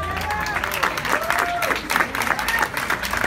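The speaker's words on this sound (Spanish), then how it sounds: "Aplausos para él." A crowd at an awards ceremony honoring women rock and blues musicians claps and applauds steadily, with voices calling out and cheering over the clapping.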